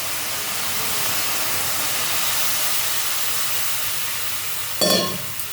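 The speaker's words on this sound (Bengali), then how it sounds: "এখন একটু জল দিয়ে দিলাম।" Mustard greens cooking in a pan with a steady hiss of sizzling and steam for several seconds, ending in a brief louder splash-like burst near the end, no voices.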